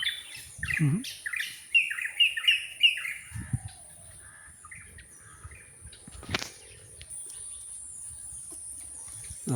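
Birds squawk and chirp in a quick run of calls early on, then quieter stretches with a steady high hum in the background.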